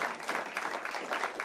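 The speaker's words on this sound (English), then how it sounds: "please round of applause" Audience clapping at a Charlotte-Mecklenburg event honoring the police chief, a brief, moderately quiet patter of many hands, steady and uninterrupted.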